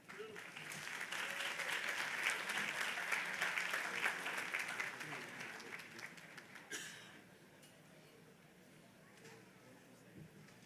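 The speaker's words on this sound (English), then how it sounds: "Please clap for her as she comes again." Commencement audience applauding an honoree, a broad wash of clapping that swells and holds for several seconds, then fades out around the seventh second, leaving quiet hall ambience with faint scattered sounds.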